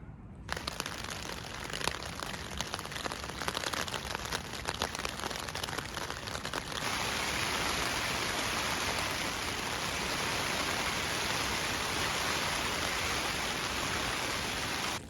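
Steady rain hisses continuously, a dense even wash of sound with no voices, growing slightly fuller partway through, on a mountain camp near Gannett Peak.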